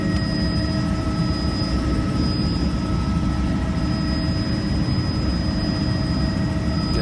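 A helicopter in flight near Hoover Dam and Lake Mead produces a loud, unbroken engine and rotor drone with steady high whine tones. It holds close and constant throughout, and no one speaks.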